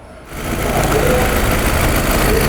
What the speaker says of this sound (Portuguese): aqui o nosso Fiat Stilo já está funcionando. O motor está funcionando até bem, redondinho